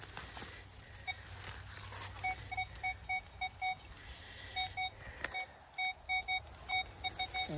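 A metal detector emits a series of rapid, faint electronic beeps in repeated bursts on a small roofing-metal signal, over soft rustling outdoors in the rain.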